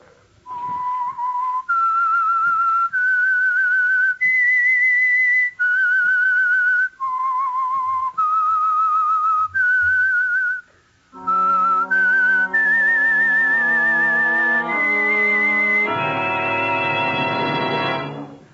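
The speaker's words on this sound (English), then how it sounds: "That whistle is your signal" A clear whistled melody of sustained, sliding notes, loud and close, joined midway by a fuller orchestral or organ-like swell that builds toward the end.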